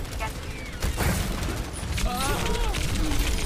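Gunshots in the Overwatch video game, a dense run of booming shots and clatter with no pause, heard loud and close while voices talk over the action.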